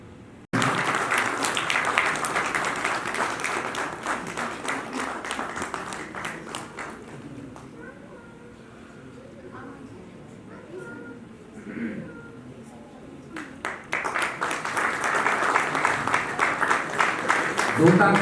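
An audience at an awards ceremony breaks into loud, dense applause. The clapping eases into a quieter stretch with murmurs and a few voices, then swells again into strong applause near the end.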